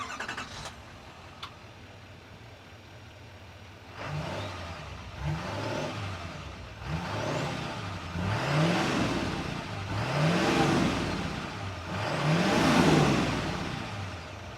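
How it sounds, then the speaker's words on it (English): A 2024 GMC Sierra 2500HD Denali Ultimate heavy-duty truck rumbles from its exhaust pipe in a series of rising revs, each swell louder than the last, building to a strong throaty roar with quiet settling between bursts. "I'm going to let you hear the exhaust note because you notice the exhaust pipe right here"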